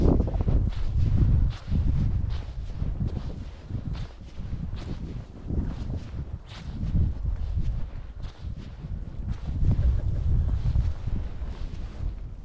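Steady outdoor wind buffeting the microphone on a winter fishing trip at minus 5 with wet snow and rime falling, a loud low rumble that surges and dips throughout with no voices.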